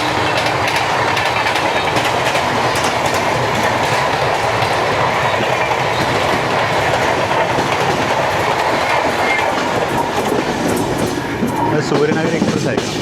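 The Suryanagar Express passes on the line near Vasai Road, a loud, close, sustained roar of wheels with rhythmic clickety-clack running throughout, and faint voices mixed in.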